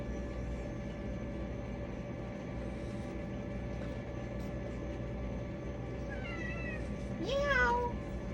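A short cat meow rises near the end over a constant low hum and background drone.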